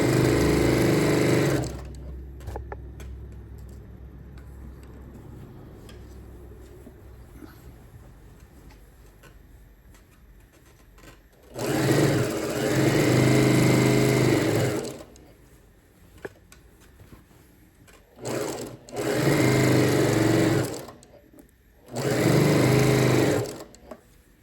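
A sewing machine stitches a seam on a fabric tote in several loud, close bursts of rapid mechanical whirring and clatter, separated by quieter pauses with faint handling sounds.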